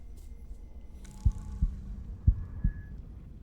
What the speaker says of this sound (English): What is this sound?